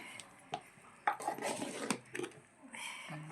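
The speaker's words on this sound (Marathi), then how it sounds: "मस्त चमच्याने घोटून घ्यायचे" A spoon stirring a thick urad dal mixture for masala vadi in a pot over a chulha gives soft scraping and clinking strokes that come and go irregularly, close by, with a little background noise.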